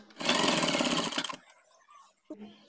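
A sewing machine stitches a shirt cuff in one loud, close, rapid whirring burst lasting about a second, then goes quiet with a few faint handling sounds.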